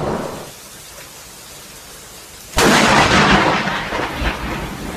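A sudden loud thunderclap from a lightning strike hitting a nearby tree, bursting in after a stretch of quiet rain and rolling on with a heavy, crackling rumble.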